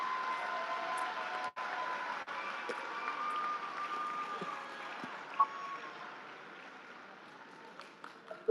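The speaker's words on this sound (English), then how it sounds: "join me in an enthusiastic round of applause for those special people who are here with you today" Sustained crowd applause from graduates at a university fall commencement ceremony in a large hall, a broad steady wash of clapping that slowly thins toward the end with a few louder individual claps.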